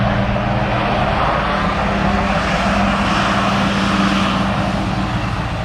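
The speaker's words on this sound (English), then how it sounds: "And here comes our friend in the tractor." A tractor engine passing holds a steady, loud drone with a low rumbling hum throughout, like heavy machinery running close by.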